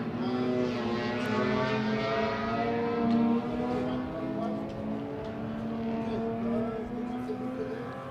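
Race cars lapping a circuit during a historic race, engines droning steadily at middle distance with rising and falling pitch as they pass, the roar staying fairly constant throughout, with faint commentary voices underneath.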